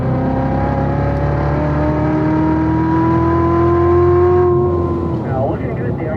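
A race car engine pulls hard on a track at Spring Mountain, its loud sustained drone climbing in pitch through the gears before easing off near the end, heard close from inside the car.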